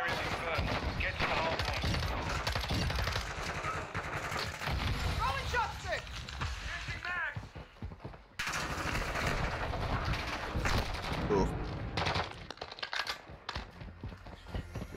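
Online multiplayer Call of Duty: Modern Warfare II match with dense bursts of automatic gunfire and single shots, loud and continuous, mixed with game sounds and voices of players talking over it.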